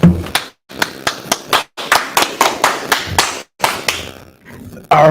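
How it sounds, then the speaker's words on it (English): Close, loud bursts of hand clapping by a small group of people indoors, coming in short uneven runs with brief pauses between them. "All right, clap it up."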